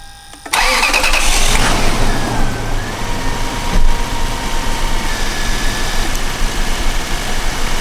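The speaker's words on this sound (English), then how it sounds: "you turn on the car, and then it takes a while for the motor to kick over" A Toyota Land Cruiser engine cranks and starts abruptly, then settles into a loud, steady idle close by with no talking.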